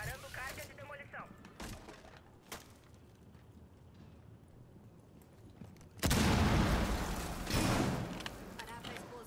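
Demolition charge going off in the Rainbow Six Siege favela map on Xbox One: after quiet shuffling and faint clicks, a sudden loud blast bursts in and rumbles on, with a second surge of debris noise.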